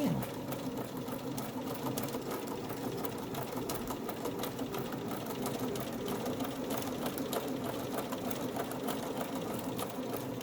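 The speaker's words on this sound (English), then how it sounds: "And we're going to sew that down." A sewing machine stitching a quilt block runs at an even, fast rhythmic whir for the whole stretch, close and steady, with faint talk in the background.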